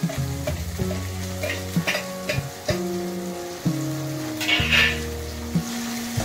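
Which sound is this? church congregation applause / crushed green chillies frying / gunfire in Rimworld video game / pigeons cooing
crushed green chillies frying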